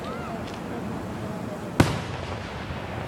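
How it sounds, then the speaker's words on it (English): At the 2015 fireworks display in Brentwood, New Hampshire, one sharp, loud firework bang bursts close by and leaves a fading crackling tail, with faint voices in the background. "It's from Joker's Fireworks."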